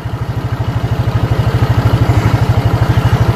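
A motorcycle engine idles close by, a steady, rapid low-pitched thumping pulse that holds loud and even for about three seconds, with no talk over it.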